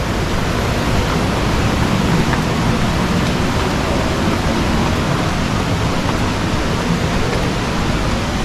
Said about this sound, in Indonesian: Tuh air terjunnya tuh, guys. Air terjun Citumang.